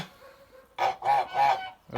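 Kholmogory geese on a stream give three loud, drawn-out honks in close succession after a quieter opening, with another honk starting at the end.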